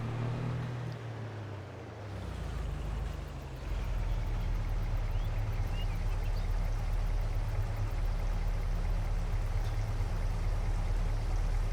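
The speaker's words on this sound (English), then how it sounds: "So we just need to put some water in there." Water gushing steadily into a tank in Farming Simulator 22, starting after a brief machine hum and continuing as an even rushing pour alongside a low engine drone, with no talking.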